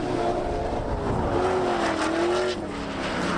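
Drift race car at a Formula D Pro-Am competition, its engine revving and wailing up and down in pitch as it slides past, loud and fairly close, with crowd or track noise underneath.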